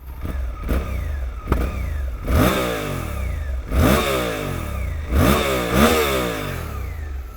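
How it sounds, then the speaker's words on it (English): A Suzuki V-Strom 800RE parallel-twin motorcycle engine with stock exhaust idles, then is revved in a series of sharp throttle blips, each rising and falling quickly, close and loud. "Do you want to have a little listen? Obviously this one's got the stock exhaust on it."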